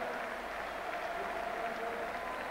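Football crowd at an Arsenal home match against Southampton in 1995–96 applauding a goal, a steady, dense wash of clapping and cheering from a large stadium audience, moderately loud and continuous with no clear individual voices.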